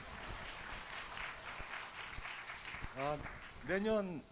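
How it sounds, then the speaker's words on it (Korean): A church congregation at a Sunday service award presentation gives faint, distant applause, a soft patter of claps, and a voice speaks briefly over it near the end. "큰 박수 주시기 바랍니다"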